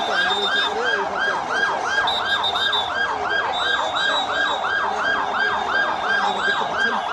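A loud, close ambulance siren wails in regular rising-and-falling cycles over a low traffic rumble, with no voices.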